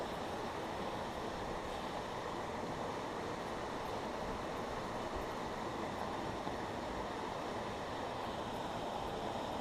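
Water rushes steadily from a waterfall and mountain stream in New Zealand, a faint, even, broadband roar of falling and flowing water with no voices.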